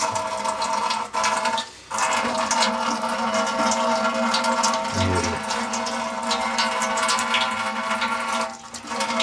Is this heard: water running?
yes